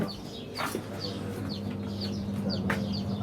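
Repeated high chirps and peeps from newly hatched chicks, with lower clucking from adult hens and a steady farmyard hum underneath, on a village farm in Turkey.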